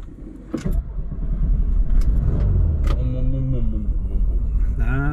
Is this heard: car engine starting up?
yes